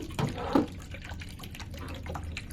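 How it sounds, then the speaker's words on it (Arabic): Water poured into a cat water fountain at home, a soft splashing and trickling stream running steadily throughout, close and moderately quiet, with a couple of brief louder splashes near the start. "حنبدا هلا نحط فيها المي."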